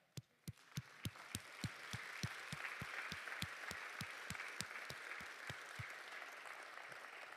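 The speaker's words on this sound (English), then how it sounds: "would you stand so that we can give you a round of applause as well?" Applause at a business school launch event for standing faculty, opening with a few distinct slow claps that swell into a steady crowd clapping, with some single claps standing out throughout.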